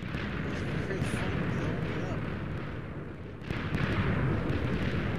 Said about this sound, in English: It's kind of hard to talk about explosions, it's quite distracting.